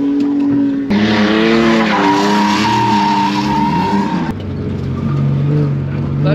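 A crazy kart drifts on a drift track, its motor whining in rising and falling pitch while the tires squeal loudly through a clutch-kick slide, with brief vocal sounds underneath.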